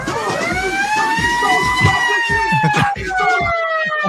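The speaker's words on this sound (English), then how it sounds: "You want me to go get the siren, Traveling Pools?" A siren sound effect, played during a live college football preview stream, wails continuously with rising and falling sweeps while voices chatter over it.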